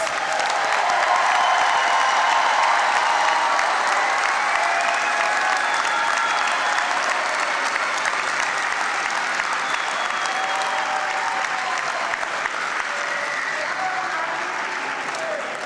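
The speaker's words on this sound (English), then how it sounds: "How about a nice round of applause for our new officers?" Sustained applause from a large crowd at a police academy graduation, a steady wash of clapping that holds at an even level throughout with faint cheering mixed in.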